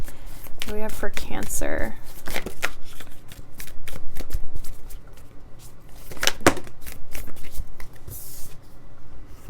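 Oracle cards being shuffled for a tarot reading, with quick papery riffles and soft handling noises under a woman's speech throughout.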